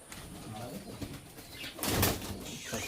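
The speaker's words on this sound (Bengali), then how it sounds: "এই হচ্ছে বন্ধুরা আমার আলিওয়ালা পায়রা, এই দেখুন। আলিওয়ালা ধাড়ি পায়রা।" Adult Aliwala pigeons in a loft make soft, low cooing with some fluttering, close by and fairly quiet, with a louder burst near the end and a voice faintly nearby.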